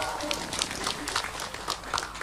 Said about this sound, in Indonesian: Tepuk tangan heula atuh kanggo paku.